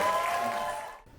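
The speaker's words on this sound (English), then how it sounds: "So a round of applause for you on that." An audience at a drag pageant night claps briefly, the applause steady, then cutting off abruptly after about a second.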